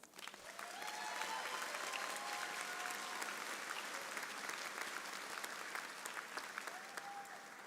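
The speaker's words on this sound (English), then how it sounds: "Please join me in giving all of them a round of applause." Sustained applause from a large audience at a college graduation ceremony, steady and dense clapping for several seconds before slowly thinning toward the end.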